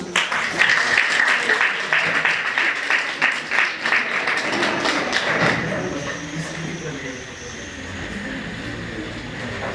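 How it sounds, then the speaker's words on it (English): At an award ceremony for a Swami Vivekananda Jayanti school event, the audience claps loudly and steadily for several seconds, then the applause thins out and gives way to a murmuring crowd. "Please give her a huge round of applause."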